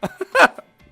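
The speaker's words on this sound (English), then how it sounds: "that was a burp and a laugh" A short burp followed by a quick laugh from a person, close and fairly loud, a few brief bursts within a second and no words spoken.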